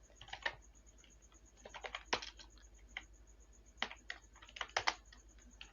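Commands typed on a computer keyboard into a command prompt, heard as scattered clicking keystrokes in short quick bursts with brief pauses between them, close and fairly quiet.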